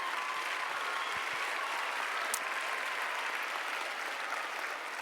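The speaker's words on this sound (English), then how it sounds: "Yes, clap for that." A crowd at an elementary school music festival gives sustained applause, a steady, even patter of many hands clapping that holds from start to finish at moderate volume.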